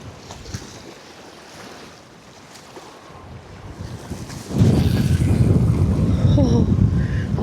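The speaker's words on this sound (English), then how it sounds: "just wind. So breezy today." Strong gusting wind on a cold river bank buffets the microphone, a low roaring rumble that swells sharply halfway through and stays loud.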